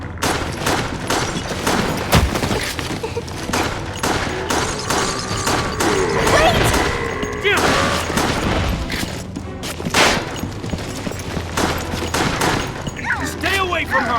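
Rapid gunfire bursts crack repeatedly through a Resident Evil: The Darkside Chronicles shooting sequence on the Wii, loud and close, with overlapping blasts, impacts and game effects while a player speaks over part of it.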